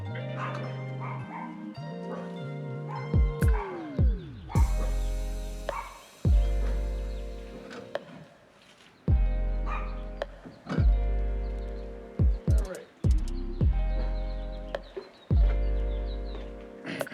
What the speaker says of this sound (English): Excuse them dogs, they don't like to stop.